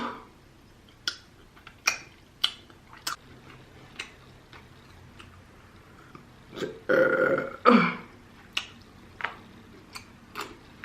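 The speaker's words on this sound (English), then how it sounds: "Oh, I needed that burp." A loud, drawn-out burp erupts during a mukbang eating session, set among quiet ticking and small clicks, close to the microphone.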